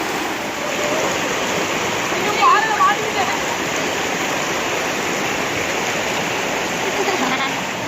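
A small waterfall in a village pours with a constant, dense rushing hiss that stays loud and even throughout, with only a brief faint blip partway through.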